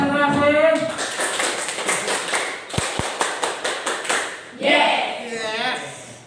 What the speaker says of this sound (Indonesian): Beri tepuk tangan untuk Bu Yasna.